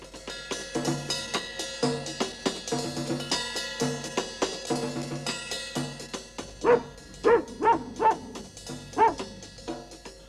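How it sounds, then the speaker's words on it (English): A cartoon dog barks repeatedly, first in a rapid run of yaps, then in louder, spaced single barks, close by with no talking. "Mungo barked louder."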